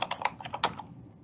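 Quick bursts of typing on a computer keyboard, about a dozen close, crisp key clicks in an uneven rhythm that trail off into quiet.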